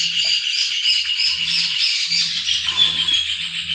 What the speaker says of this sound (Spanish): ¡Wow! Los pájaros.